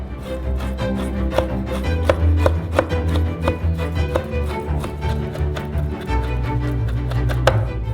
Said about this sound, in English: Finally chop them.